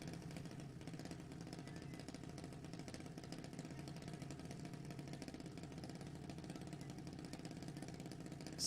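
A drag race car engine idles at a drag race event, heard as a faint, steady low rumble that continues without change, with a slight rise at the very end.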